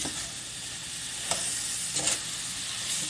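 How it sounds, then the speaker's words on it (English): Apples sauteing in a pan of melting butter and sugar give a steady, soft sizzle with a couple of brief stirring scrapes, close and continuous, with no talking. "you can hear the butter melting in there and the sugar melting"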